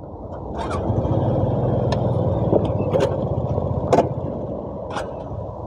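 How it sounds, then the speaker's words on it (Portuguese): Suzuki Burgman scooter engine running on the road, its steady motor drone holding loud and near with a few sharp clicks and knocks over it, no clear revving surge or cutoff at the end. "Vocês viram que a hora que eu dei a aceleração ela morreu."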